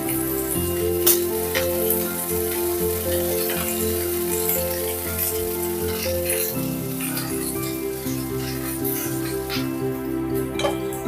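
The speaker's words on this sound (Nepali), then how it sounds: "यसरी मिडियम आँचमा यसलाई 1 मिनटसम्म भुट्नुपर्छ।" Okra frying in oil over medium heat, a soft, even sizzle with scattered light pops and ticks, fairly quiet, over a faint sustained tonal hum.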